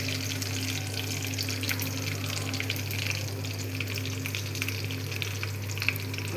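Curry leaves and dried chillies fry in hot oil with cumin, a dense steady crackling sizzle, close and even throughout with no speech.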